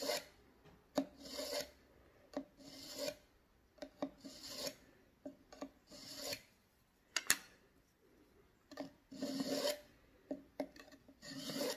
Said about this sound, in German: wir sind uns nicht zu schade, mit diesen Messern auch auf Keramiktellern zu schneiden